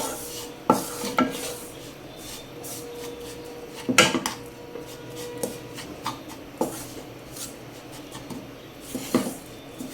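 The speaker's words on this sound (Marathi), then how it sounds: "छान असं मिक्स करून घेऊया आपण याला" Raw grated mango pickle being mixed in a pot with a spoon, giving intermittent scraping and clinking strokes against the metal, with a few sharper knocks standing out from a quiet kitchen background.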